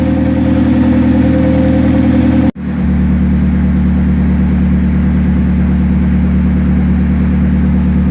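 A Hyundai Tiburon engine idles with a noisy clutch throwout bearing, a steady low drone and whirring rattle, briefly cut by a sharp click, then continuing evenly and close by, with no talking.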